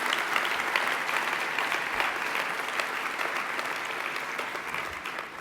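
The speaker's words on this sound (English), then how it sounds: "give President Sandu a round of applause and a warm welcome for it" Audience applause at a conference opening ceremony welcoming President Sandu: dense, steady clapping from a large crowd, sustained and even throughout, with no voices over it.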